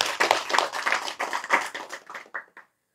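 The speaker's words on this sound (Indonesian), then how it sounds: "Tepuk tangan untuk mereka." Audience at an Indonesian religious sermon breaks into dense clapping, a crowd of hands tapping quickly and fairly close for over two seconds before trailing off into a few last claps and silence.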